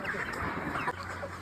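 A crowded flock of chickens in a poultry shed clucks continuously nearby, with a low steady hum, likely a running fan, entering partway through.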